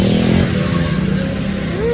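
A motorcycle engine runs close by at a loud, steady idle with slight revving, its low rumble filling the stretch with no voices over it.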